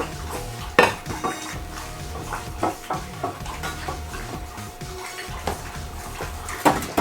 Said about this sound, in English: I have my pumpkin and my onions, which I'm now going to put on this tray.